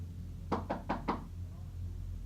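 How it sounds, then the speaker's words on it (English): Four quick, evenly spaced knocks rap on a window, close and crisp, over a low steady background hum and otherwise quiet surroundings. "a knock came at my window"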